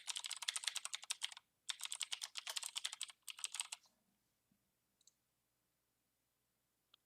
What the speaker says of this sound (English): Just type in your email here and click Check Names.